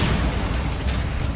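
A Bombarda spell explosion in Hogwarts Legacy: a single loud, low booming burst that rumbles and fades over a second or so, heard alone.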